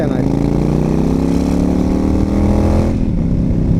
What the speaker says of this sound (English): And man, this exhaust sounds great!